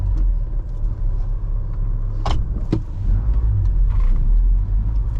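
A 1989 Ford Ranger pickup with low original mileage drives along in rush-hour traffic, its engine and road noise a steady, close, low rumble throughout, with a couple of brief rattling clicks partway through.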